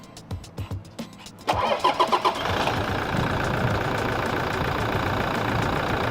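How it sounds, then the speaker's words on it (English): A car engine fitted with a Steinbauer power module cranks with a few quick, uneven turns, then catches and settles into a steady, fairly loud idle that runs to the end. "Now we're going to start the engine"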